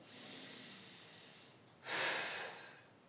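A person takes one deep, audible breath in through the nose during a rib-focused breathing exercise: a short, close, breathy rush that follows a quiet hiss of room noise.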